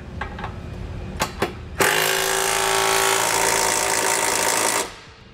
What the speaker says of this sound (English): Now I'm going to come back with a 3/4 inch socket and snug up all my hardware.